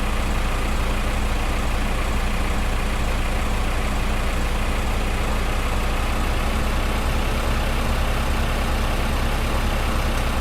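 In Farming Simulator 2015, a tractor sits idling, its engine giving a deep, uniform rumble with a faint higher whine, near and loud, running continuously without change or speech.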